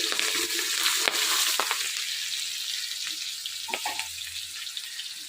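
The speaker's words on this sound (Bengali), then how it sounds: "পাঁচফোড়ন ভাজা হয়ে গেছে, এই যে লঙ্কা দিয়ে দিলাম" Green chillies dropped into a pan of hot oil with fried panch phoron, giving a loud close sizzle and crackle that spits sharply at first, then settles into a steadier fry with a few stirring clicks.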